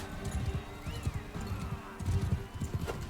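Horse hooves clip-clop at a gallop in the medieval combat game Bannerlord, a steady rapid drumming of low thuds with a brief whinny-like glide, fairly close and continuous.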